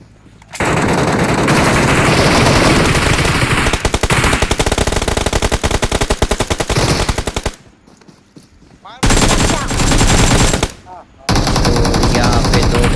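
Rapid automatic gunfire rattles loudly and almost nonstop through a fight in a shooter video game, bursts broken by short pauses, close and dense with distorted reports.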